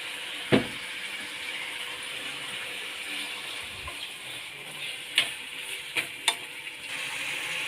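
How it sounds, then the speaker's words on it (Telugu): Tomatoes cooking in a pan on a home kitchen stove, a steady soft sizzle and simmer throughout, with a few sharp clinks of a spoon against the pan. "ఇప్పుడు టమాటా ఉడుకుతుంది కదా"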